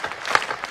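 An audience at a Hindi poetry recital claps in a short, fairly loud burst of applause.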